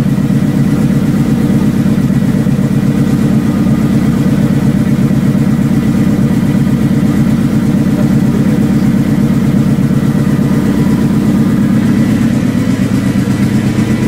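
A newly restored 25th-anniversary car idles right after its first start: a loud, steady, close engine rumble that holds an even idle for the whole stretch, with no talk over it.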